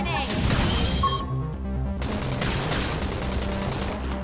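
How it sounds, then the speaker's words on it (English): A flame grenade attack in Xenoblade Chronicles X lands as a loud burst of crashing blasts and rapid impact noise, dense and sustained, over battle music. "Flame grenade!"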